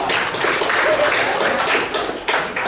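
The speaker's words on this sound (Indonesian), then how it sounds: "tepuk tangan dulu untuk Nicolin, Tiara, Bapak." Classroom applause for students during a lesson, a dense patter of many hands clapping steadily and fairly loudly for a few seconds, with brief swells of louder bursts.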